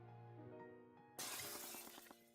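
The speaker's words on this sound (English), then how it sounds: "I suddenly heard the sound of shattering glass." Glass shatters abruptly after a stretch of low humming ambience, a bright crash followed by a brief scatter of tinkling fragments; faint and distant in level.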